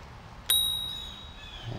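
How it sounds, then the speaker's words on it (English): A single bright ding from the integrated bell of a two-tone silver Rad Power Bikes RadRover e-bike, struck once and ringing out with a long fading tail over quiet outdoor background. "the Rad is two-tone, silver. You have the rubber insert and the integrated bell."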